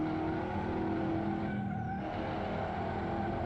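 A McLaren race car in the Assetto Corsa game takes a corner with a continuous engine drone and a brief rising squeal partway through, steady and without talk.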